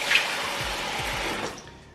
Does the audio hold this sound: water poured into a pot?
yes